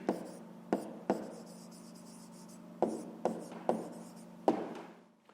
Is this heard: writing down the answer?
yes